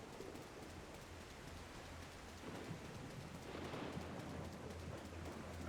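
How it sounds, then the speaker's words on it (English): Steady rain falls in Devil May Cry 4, a dense even hiss that holds throughout and swells slightly toward the end, with a low rumble and faint bird-like chirps in the background and no talk. "Why is it raining?"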